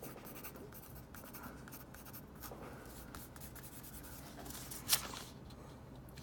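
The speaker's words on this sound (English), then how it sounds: "And I'll write." Faint, close scratching of a V7 high-tech pen writing on paper, soft continuous strokes with a small sharp tap near the end, no speech.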